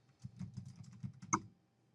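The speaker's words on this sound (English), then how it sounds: "I'll start by entering the text that I want to filter on." Quick run of keystrokes on a computer keyboard, about a dozen soft clicks over two seconds ending in one sharper tap, close and fairly quiet.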